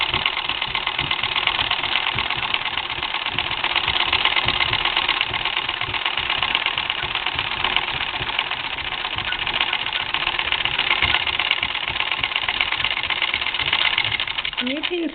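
A Singer 15-88 sewing machine stitches through a heavy, bulky sweater quilt, its fast, even mechanical chatter running continuously and close at a steady pace throughout, with a brief soft knock near the end.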